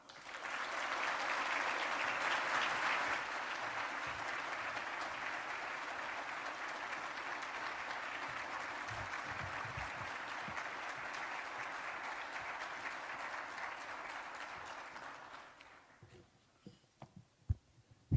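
An audience welcoming Portsmouth Mayor Shannon Glover at a State of the City event with steady, full applause that lasts about fifteen seconds, then fades into scattered claps and room noise.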